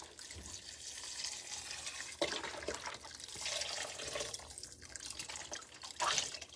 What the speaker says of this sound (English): Okay, we're going to add our stock. Again, this is 1 quart.